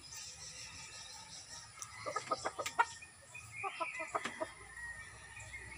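Several chickens clucking at a farm during a jackfruit harvest, short bursts of clucks clustered in the middle of the clip, moderately near over faint outdoor background noise.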